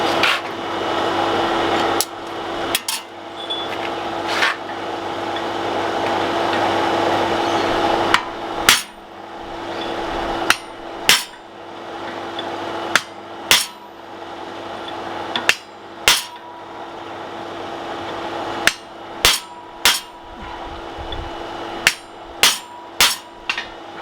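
Steel drift hammered through the eye of a hand-forged Viking-style kitchen axe, sharp ringing metallic blows coming singly and in pairs at an irregular pace over a steady background roar, close and loud.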